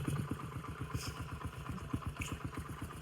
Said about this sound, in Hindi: चले तो बैठ गए अपने मोटरसाइकिल पे, चल रहे हैं बाजार।